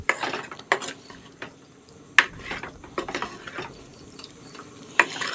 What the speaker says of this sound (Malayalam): എല്ലാം കൂടി ഒന്ന് ഇളക്കി യോജിപ്പിക്കും.